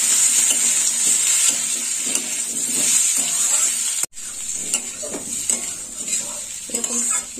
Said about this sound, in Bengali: ওলটা আমি ভালো করে কষিয়ে নেব।